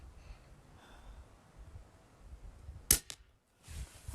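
A suppressed 300 Blackout rifle firing cast lead bullets gives one sharp, quiet crack, followed closely by a smaller second snap. Low handling rustle and breathing surround the shot.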